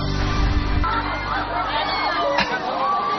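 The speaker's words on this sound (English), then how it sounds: "You can probably hear the screams behind me" A noisy crowd with distant screams from people on an amusement ride, mixed with shouts, chatter and general outdoor commotion.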